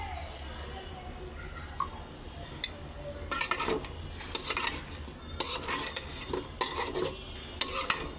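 Chicken meat sautéing for biryani, a soft steady sizzle broken by bursts of stirring and spoon scraping against the pot, close by.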